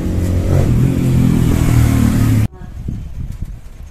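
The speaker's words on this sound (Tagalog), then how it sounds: "May motor na naman." A motorcycle passing by close, a loud droning engine that builds and holds before cutting off abruptly, leaving quieter ambient noise.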